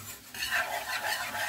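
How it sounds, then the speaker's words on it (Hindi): Flour is stirred into hot oil in a pan for a white sauce, a steady scraping stir over a soft continuous sizzle, close and moderately loud with no voices. "हमेशा ऑयल के हाफ आपने मैदा लेना है और इसको साथ साथ हिलाते रहना है, इसमें लम्स नहीं बनने चाहिए"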